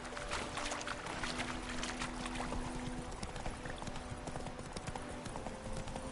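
Hooves clip-clop at a steady gait as Geralt rides his horse in The Witcher 3, close and rhythmic over a soft ambient bed of game sound.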